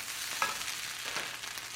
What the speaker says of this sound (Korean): 홍게살 넣고 볶아주세요.